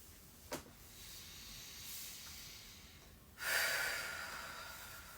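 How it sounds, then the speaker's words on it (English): Slow deep breathing during a yoga session, very quiet and close: a faint short sniff, a soft inhale, then a longer hissing exhale. "Let's take 2 more breaths."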